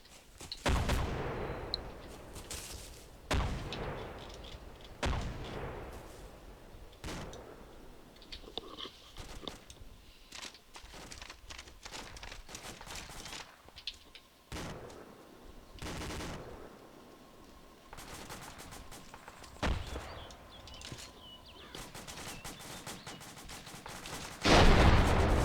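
Video game mortar rounds land on enemy positions as scattered sharp blasts and bursts of gunfire, some distant and some louder, spread irregularly over a long stretch of quiet with no talk.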